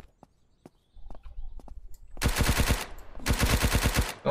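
Vector submachine gun in the zombie survival game Surroundead fires two rapid bursts of closely spaced, loud shots, each lasting under a second, with a short pause between them.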